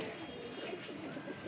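A newly flown pigeon returning to settle on a rooftop, with soft cooing and light bird sounds over faint outdoor background.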